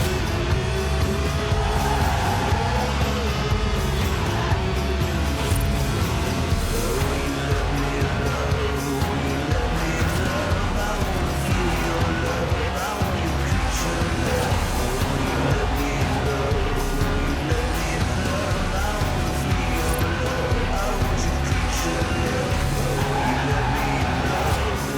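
Lotus sports car with a 1.8-litre engine revving toward 8,000 RPM in Forza Horizon 4, loud continuous engine roar with tyre squeal and skidding throughout, no voices.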